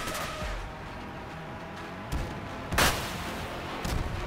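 Trombone-style rocket launchers fire in a video game, a loud rushing burst with a sharp blast near the middle and a smaller crack near the end over steady game rumble.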